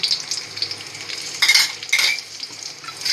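Dried dates, coconut and chironji fry in a pan on low heat for sheer khurma, with a close, continuous light sizzle and repeated stirring scrapes of a utensil against the pan, and no talking.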